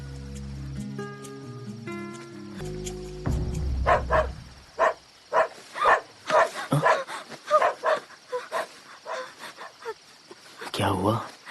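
A dog barks repeatedly in a quick irregular series of sharp, loud yaps and woofs near the listener, following a stretch of musical tones, with a final burst of barking at the end.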